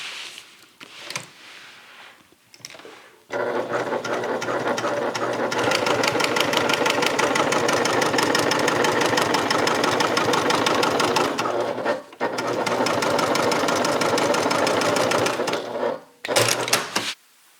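A sewing machine top stitches a bag seam in one long, loud, steady run of rapid stitching near the mic. A brief pause comes near the end before a short final burst, with a few faint handling sounds at the start.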